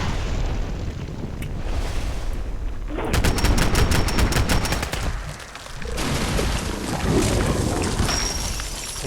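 Rapid bursts of gunfire in the video game Fallout, dense crackling volleys that swell and pause mid-clip before resuming loudly, with no voices over them.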